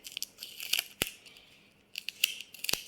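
Scissors snip through a piece of tape in a few quick, close, crisp cuts, with soft crinkling of the tape between them.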